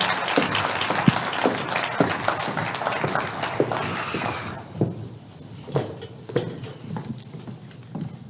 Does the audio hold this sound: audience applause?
yes